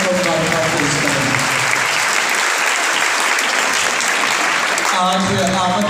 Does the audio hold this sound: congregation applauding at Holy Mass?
yes